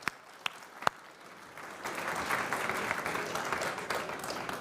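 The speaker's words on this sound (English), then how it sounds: "a big round of applause for Emil Dosev, everybody!" A crowd at a coffee festival breaks into sustained applause after a competitor's turn, dense clapping rising after a few sharp isolated claps, moderately distant and steady.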